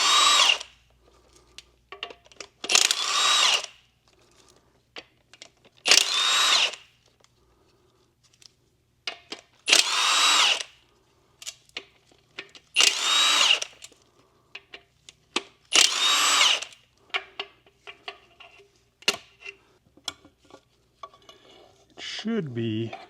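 A power drill unbolts the clutch cover on a Nissan 370Z, buzzing and whirring in short loud bursts about every three seconds. Faint metallic clinks and rattles fill the quiet gaps between the bursts.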